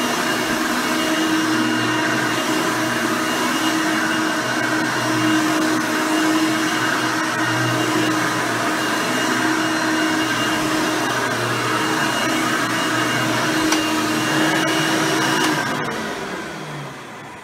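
An old Hoover Elite upright vacuum with a freshly replaced belt runs loudly and continuously, a steady motor roar and whine that holds throughout before easing off at the end.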